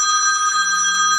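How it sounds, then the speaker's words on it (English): A telephone rings indoors with a steady, unbroken electronic tone that is loud and close and stays level throughout, with no voices. "Never fails, I always get a phone call."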